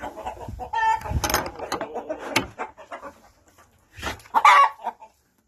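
Chickens in a henhouse cluck and squawk close by in uneven bursts, with a rooster-like call and some faint rustling between them.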